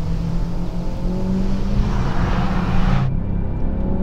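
A 2017 Honda Civic Type R engine accelerates hard on a race track with VTEC and turbo, giving a loud sustained roar that rises for about three seconds, then drops off abruptly as the throttle lifts.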